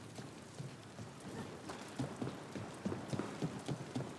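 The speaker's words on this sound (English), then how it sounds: "And the rain." Rain falls in the video game Dragon Age: The Veilguard, a quiet, soft patter of drops with scattered light taps on surfaces, faint and steady throughout with no speech over it.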